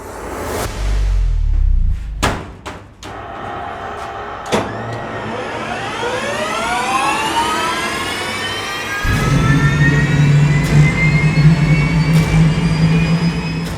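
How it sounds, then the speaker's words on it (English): Aircraft turbine engine generator start cart spooling up for a bleed air test, beginning with thumps and clicks, then a rising whine that climbs steadily into a loud sustained turbine roar. "It's a turbine engine generator and airflow developer, so to speak."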